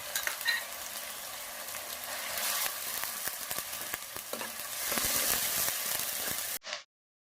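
Ginger-garlic paste for a fish curry frying loudly in oil, a dense continuous sizzle with spatula scrapes and clatters throughout, cutting off abruptly near the end.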